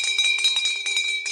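A small bell rings repeatedly in quick succession, bright metallic strikes close up and alone, each ring shimmering briefly before the next.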